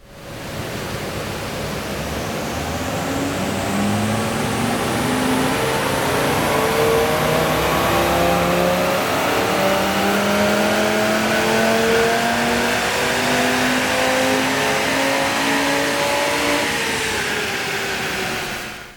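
Sustained roar of a 2017 Audi RS3 8V engine on a dyno, pitch climbing steadily through the gears for about eighteen seconds before cutting off, loud and continuous with broadband rush and no voices.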